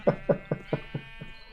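A Minecraft sheep gives a short run of six quick, evenly spaced bleats in about a second and a half, each a bright nasal pulse, close and clear with no talk over them.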